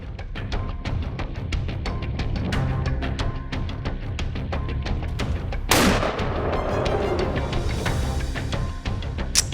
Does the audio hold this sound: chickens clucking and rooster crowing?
no